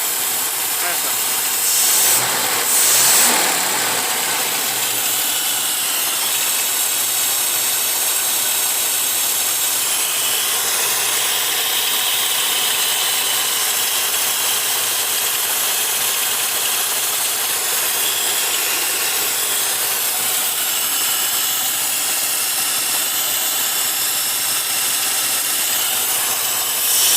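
A Chevrolet Chevette engine fitted with a motorcycle carburetor and an air filter runs steadily with a loud, hissing roar that holds constant throughout, with a brief voice near the start.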